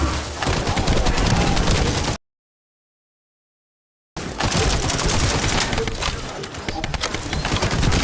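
Rapid sniper and automatic gunfire in the shooter game The First Descendant, loud dense bursts of shots that cut out completely for two seconds, then resume just as thick.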